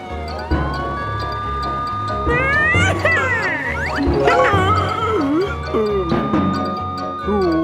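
A cartoon police car siren wails steadily while cartoonish squeals and voices chatter over it, all close and fairly loud.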